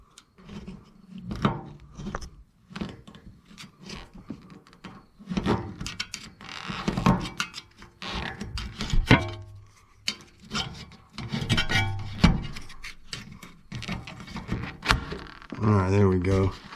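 Screwdriver scraping and prying at a trim part on a 1959 Dodge Coronet during bodywork, with scratchy rasping bursts and clicks close by, interspersed with someone talking.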